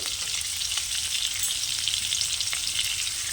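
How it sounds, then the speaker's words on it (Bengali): Spices sauté in hot oil in a frying pan for a star fruit chutney, a steady, close, continuous sizzle with faint occasional stirring scrapes and no talking. "ভালো করে আমি কষে দেব"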